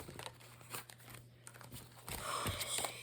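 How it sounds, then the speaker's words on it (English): Soft, quiet rustling and flicking of tarot cards being shuffled close by, in a few short bursts with a low hum underneath. "Let me shuffle, get my hands, y'all."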